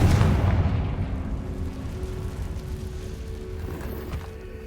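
A blasting spell explodes in the Hogwarts Legacy video game, a single loud boom at the start that decays into a long rumbling tail with debris-like crackle, with no talking over it.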